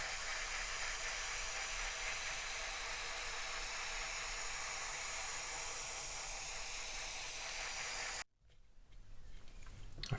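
An airbrush sprays slightly thinned paint onto the main mast of a 1/84 Deagostini HMS Victory model, a steady close hiss holding for about eight seconds before cutting off abruptly into quiet.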